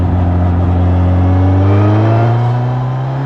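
A Suzuki GSX-S1000 motorcycle's four-cylinder K5 engine is heard while riding in B mode, a loud, steady drone close to the microphone, its pitch rising slowly as the bike pulls along, with no talking.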